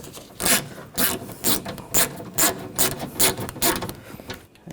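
Bolts on the rear window regulator of a 2014–2020 Nissan Rogue are snugged down with a ratchet, giving a rapid, close series of about a dozen clicking ratchet strokes with no talk.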